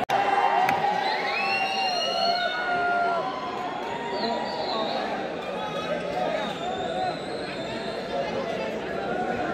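A crowd of people shouts and cheers loudly at an informal cricket match, a dense, continuous roar of overlapping voices and excited yells close by for the whole stretch.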